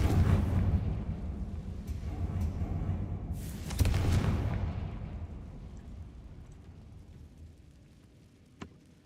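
Incendio and Confringo spells go off in the Hogwarts Legacy video game: a rumbling blast opens the clip, a second sharp burst follows midway, and then a long fading roar with a small late crack.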